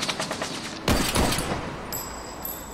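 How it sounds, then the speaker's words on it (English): Gunfire from a shooter on a rooftop above an electronics shop in the game Tesla Effect: a burst of rapid shots followed by a couple of heavier blasts, loud and close, with a thin electronic tone lingering at the end. "Someone was shooting from the top of the electronics shop."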